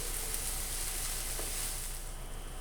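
Chopped onion softening in a pan on medium heat for a tarragon dish, a soft, steady sizzle with faint crackles, heard alone.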